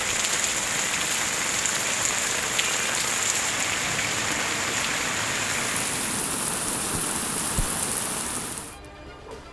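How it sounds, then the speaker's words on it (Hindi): Heavy monsoon rain pours down steadily in Punjab, a dense, loud hiss of drops on surfaces that continues without letup for most of the clip, then suddenly drops away near the end. "पंजाब के मुख्तलिफ शहरों में मूसलाधार बारिश से जलथल एक हो गया"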